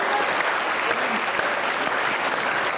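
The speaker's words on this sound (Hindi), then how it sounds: "तालियां।" A talk show studio audience breaks into applause, a thick, even wash of clapping that stays loud and steady for the whole stretch, with faint voices underneath.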